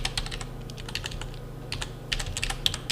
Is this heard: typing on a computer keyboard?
yes